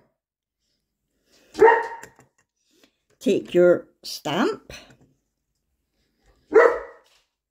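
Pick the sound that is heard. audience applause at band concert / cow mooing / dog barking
dog barking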